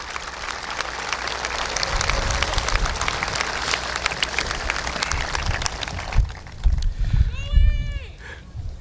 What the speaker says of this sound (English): for a round of applause?